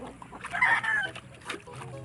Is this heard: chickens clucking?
yes